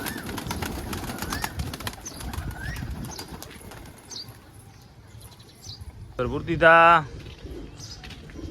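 Pigeons gathered at morning feeding time, with soft cooing, chirps and a brief burst of flapping wings near the end, all under steady nearby talking.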